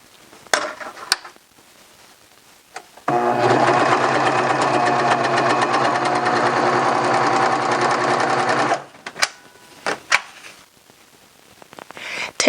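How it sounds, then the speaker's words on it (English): A serger stitches together the short raw ends of a folded T-shirt neckband, running loud and steady for several seconds, with clicks and handling noises before and after. "we're going to sew the ends together"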